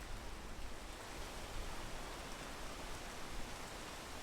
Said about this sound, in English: We're gonna wait out the rain here.